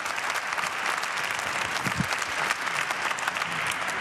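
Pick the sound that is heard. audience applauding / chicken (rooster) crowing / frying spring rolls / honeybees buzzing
audience applauding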